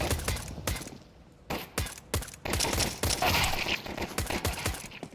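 Rapid pistol gunfire during a Counter-Strike pistol round in a professional esports match, with sharp bursts of shots and clattering action sounds in quick succession, loud and close, with no talk over it.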